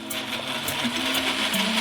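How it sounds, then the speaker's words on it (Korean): A blender whirs steadily blending ice cream, syrup and melon into a milkshake, its motor pitch shifting slightly as contents churn; close and continuous for the whole short stretch. "마지막으로 다 같이 갈아주세요"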